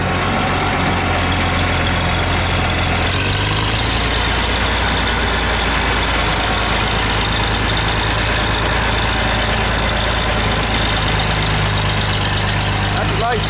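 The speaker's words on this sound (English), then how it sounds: "That's a nice 3010 diesel." A John Deere 3010 standard diesel tractor engine runs at a steady idle nearby, a low rumbling chug throughout, while a person talks over it.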